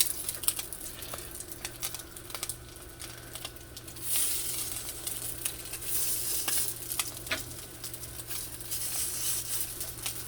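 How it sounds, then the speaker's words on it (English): Steady sizzling and crackling of alligator gar fish cakes frying in hot oil, with scattered pops and a brief surge of hissing midway, close and without speech. "Let's start frying them up."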